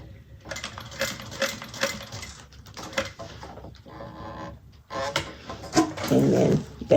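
Sewing machine stitching a bag along a drawn line and pivoting across, with short bursts of rapid mechanical stitching broken by pauses, clicks and handling noises, close to the microphone.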